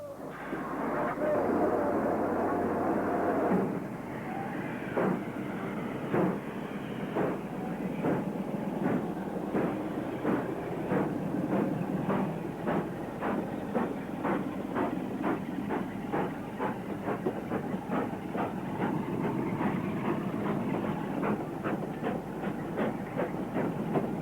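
LMS steam locomotive No. 48629, a British steam engine that came to the rescue of a failed Class 47 diesel, running with a steady rhythmic clatter of wheels over rail joints and a continuous mid-range rumble, with a voice talking over it.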